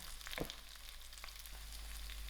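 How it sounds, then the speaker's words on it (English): Dry chilies fry quietly in oil for sour dhal, a faint, steady crackle with a few light clicks and stirring touches. No voices are heard. "I'll give this a nice mix and let the dry chilies fry."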